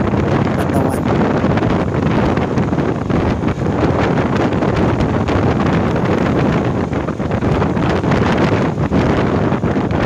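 Steady, loud wind buffets the microphone throughout on a road by Taal Lake, Batangas, a constant roaring rush with no breaks.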